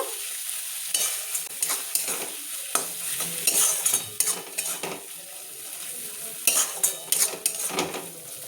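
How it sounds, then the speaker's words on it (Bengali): White mustard paste is stirred in a hot pan, giving a soft sizzle under brisk, uneven scrapes and clatters of a spoon. "তো আমি সাদা সর্ষে বাটাটা দিয়ে দিলাম, বুঝে দেবেন। এবার আমি এটা ভালো করে নাড়াচাড়া করে নেব।"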